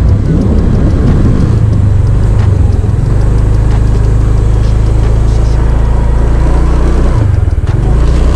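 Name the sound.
motorcycles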